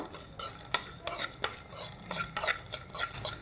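Black sesame and fennel seeds dry roast in a pan, with a light dry hiss and a steady run of sharp scraping strokes as a spoon stirs them, close and alone.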